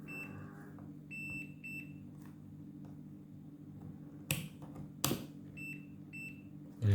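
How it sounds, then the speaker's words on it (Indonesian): Multimeter in buzzer continuity mode while testing an SMPS power supply optocoupler, giving a few short, clear electronic beeps in a quiet room, with two sharp clicks of probe contact near the end. "Jadi kita mengukur mode buzzernya, kita ukur aja, pilih sini ya buzzer ya,"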